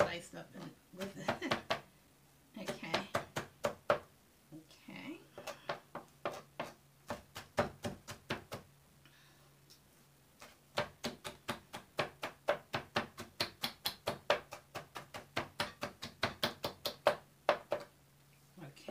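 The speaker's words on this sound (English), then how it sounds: "So let's just cut it just like this." A knife dicing yellow bell pepper on a cutting board for potato salad, a long series of rapid, even chopping knocks close by, with short breaks and a person talking through much of it.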